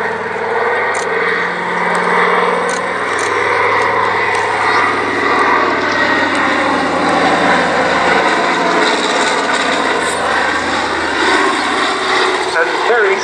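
Catalina flying boat with piston engines and propellers droning steadily at an airshow while its nose and main wheels retract, a loud continuous roar with a commentator talking over it throughout.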